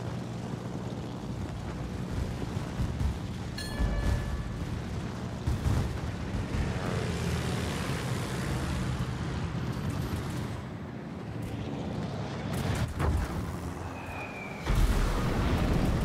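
Artillery fire and explosions striking a target in a battle, a continuous heavy low rumble punctuated by several booming blasts, some near and some more distant.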